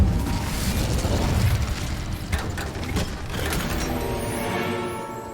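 An Incendio fire spell cast in Hogwarts Legacy gives a loud, sustained burst of crackling, mechanical-sounding energy that holds steady for several seconds before easing off, with no talking.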